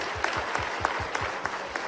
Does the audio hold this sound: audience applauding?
yes